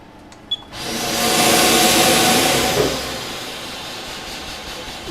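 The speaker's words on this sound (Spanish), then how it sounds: "Ahora inyectamos el vapor." Steam hisses as it is injected into a bread oven loaded with ciabatta loaves, a sudden broad rushing surge that swells, peaks and then settles into a steady softer hiss after a brief click.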